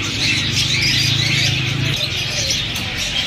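Caged Java sparrows and canaries at a Sunday bird market in Bahawalpur fill the air with dense, continuous chirping and twittering, close and steady throughout.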